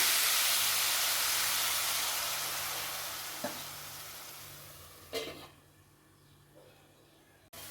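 Soft frying hiss of beetroot and chana dal stir-frying fades gradually, broken by a few brief clanks of a utensil against the pan.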